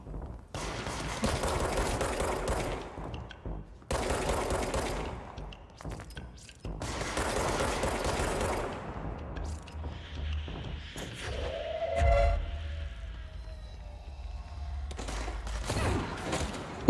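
Heavy gunfire and explosions from a combat video game come in long, loud, dense bursts broken by short gaps, with no talking over them.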